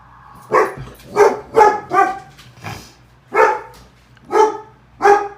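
A dog barks at a passing police car, eight loud, close barks in an uneven series, with no talking over them.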